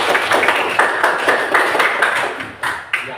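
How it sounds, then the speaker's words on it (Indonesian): A classroom of students applauds in a steady stream of dense claps that fills the whole stretch, loud and close, thinning into a few distinct final claps near the end. "Tepuk tangan lagi"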